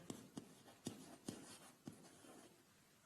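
Numbers are written by hand in a quiet space, with five or six distinct soft strokes and taps spaced irregularly across a few seconds and no voices over them.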